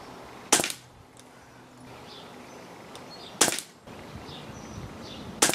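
A Daystate Renegade .177 air rifle fires two sharp, loud shots about three seconds apart, each a crisp crack, with a third starting right at the end and quiet outdoor ambience in between.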